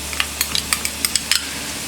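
Capsicum tossed into a pan of frying carrots, beans and onion for masala macaroni, with a steady sizzle under sharp, repeated scraping clicks of a spatula against the pan, close and fairly loud.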